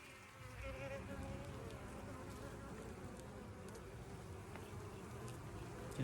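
Honeybees buzzing steadily around a hive while a new colony split is made, a dense continuous drone of many insects close by, with occasional soft handling sounds and no speech.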